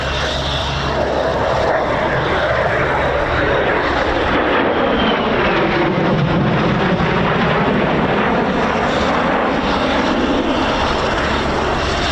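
A C-130K Hercules turboprop transport flies past at an air show, a loud, continuous propeller drone and roar that stays strong throughout with no talk.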